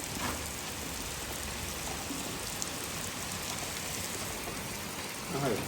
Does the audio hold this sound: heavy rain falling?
yes